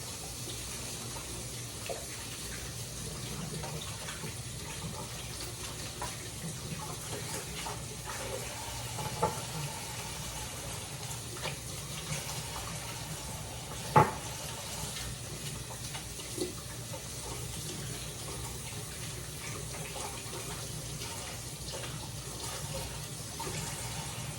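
Tap water runs steadily into a sink during handwashing, a quiet continuous wash of sound with occasional small clunks and splashes, no speech over it.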